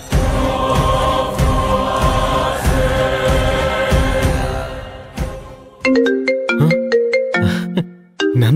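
A phone rings for an incoming call with a loud, melodic ringtone that plays in repeated chiming phrases, first under a fuller backing and then as crisp separate notes.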